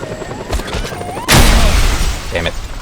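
A helicopter crashes in the video game Just Cause 2, with a sudden loud explosive boom and rumbling debris partway through, preceded by mechanical game sounds and followed by rattling clatter, while a person talks.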